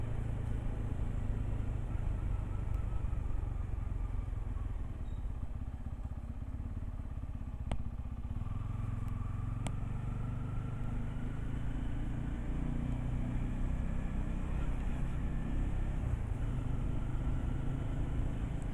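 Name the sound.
motorcycle riding on morning ride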